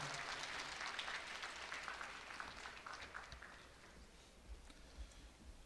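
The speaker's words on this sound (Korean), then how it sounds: "큰 박수로 격려해 주시기 바랍니다" An audience at a Korean graduate school graduation ceremony applauds a graduate after her speech, a faint, steady wash of clapping from a large hall that gradually thins out.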